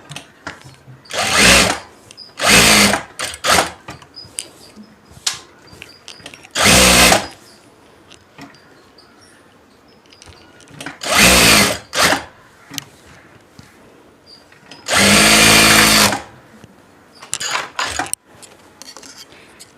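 Sewing machine stitching along all four sides of a piece of cloth cut larger than a canvas, heard as several separate loud whirring bursts of a second or so each, with quiet pauses between runs.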